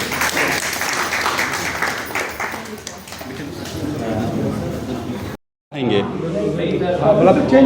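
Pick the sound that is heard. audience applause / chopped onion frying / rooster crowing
audience applause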